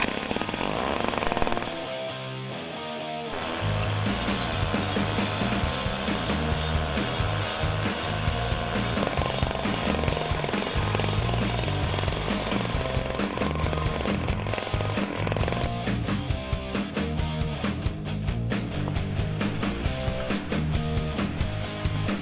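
A Jiffy gas-powered ice auger drills holes through lake ice at an ice fishing derby on Newfound Lake, New Hampshire, its two-stroke engine buzzing and revving loudly and continuously at close range, with a brief dip early on.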